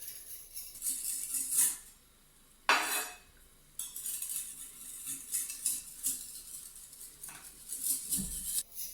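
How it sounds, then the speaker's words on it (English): Knife carving thin strips from a frozen chicken doner block, a run of close, brittle scraping shaves broken by brief pauses and a few clinks. "get your knife, and we just want to carve strips off"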